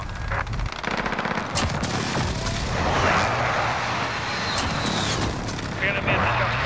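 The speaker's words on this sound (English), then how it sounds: "Precision airstrike, ready on your mark." Precision airstrike explosions in Call of Duty: Modern Warfare multiplayer rumble as a dense, continuous barrage mixed with machine-gun fire, with voices calling out over the din.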